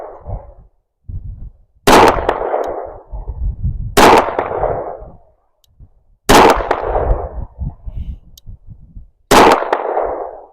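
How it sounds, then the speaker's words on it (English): Four loud rifle shots ring out a couple of seconds apart, each one a sharp crack followed by a rolling echo as it is fired at faint metal targets some 70 to 80 yards off, with no voices. "I'm going to take some pot shots at fucking metal targets I can barely see."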